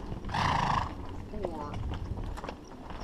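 A Paso Fino horse lets out one loud, ringing whinny near the start, followed by softer shuffling that may be hooves while people talk nearby.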